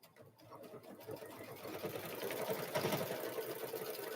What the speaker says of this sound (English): I go to the 4, and I stitch, and then I back stitch